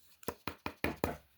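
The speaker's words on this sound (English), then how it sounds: "Knock on wood." Five sharp knocks on wood, close and distinct, struck in a quick uneven rhythm with short pauses between raps, heard alone in a quiet room.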